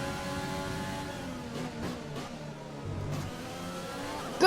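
A Formula 1 racing car engine in the F1 2020 video game revs and accelerates, a steady mid-loud whine with rising and falling pitch through gear changes, heard alone without speech.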